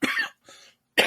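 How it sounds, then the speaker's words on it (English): A person coughs three times in harsh bursts, with a short quiet gap after the first and a softer cough in the middle, close and fairly loud with no talking. "As I die here coughing."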